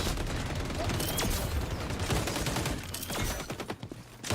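Gunfire in the shooter game XDefiant, with sniper rifles among the weapons, comes as dense bursts of sharp shots and cracks that run throughout, clustering into rapid volleys toward the end with little talk over them.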